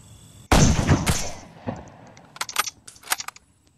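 Gunfire in a shooter video game: a loud sharp blast opens, followed by a couple of further bangs and a run of lighter clicks and metallic clatter, with no talking.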